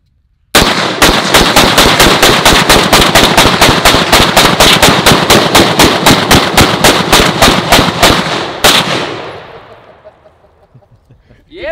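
Rapid string of about thirty loud close gunshots fired in steady succession during target shooting on a farm, then a decaying echo and silence.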